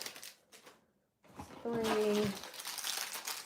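Sour fruit block candy wrappers are unwrapped by hand, producing close crinkling and crackling plastic rustles after a brief quiet gap, with a short squeak among them and a voice audible in the background.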